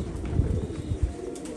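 Rashidi pigeons coo softly nearby, a few low throaty pulses in an uneven rhythm with no one talking.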